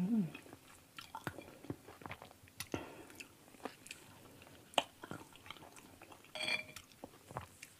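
Crunchy food with toasted rice being chewed up close in an ASMR mukbang, irregular crisp bites and crackles with soft mouth sounds between them.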